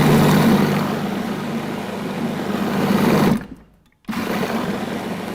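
Food processor grinding a wet psyllium pastry mixture for a raw Swiss roll, a steady loud motor whir running continuously, briefly cutting out for a moment near the end before starting again.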